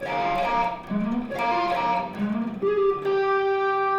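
Electric guitar with distortion plays the closing section of a riff, a run of sustained notes with sliding pitch changes and a long held tone near the end, heard alone and fairly loud.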